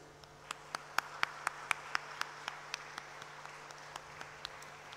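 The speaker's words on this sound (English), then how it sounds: "round of applause, please." Sparse, evenly spaced claps from a small audience at an academic event at IIEST Shibpur, about one crisp clap every quarter second and gradually thinning, heard faintly over a steady room hum with no voices.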